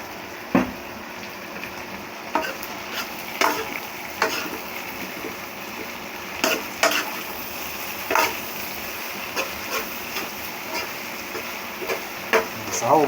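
Chow mein stir-fries in a pan, its constant sizzle broken by repeated scraping and tossing strokes at an uneven rhythm, loud and close.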